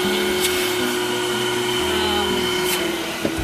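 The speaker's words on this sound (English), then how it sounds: "this vacuum is amazing" A budget steam cleaner vacuum runs while cleaning a car interior, a loud steady motor whine and rushing airflow holding constant close by, with a person talking over it.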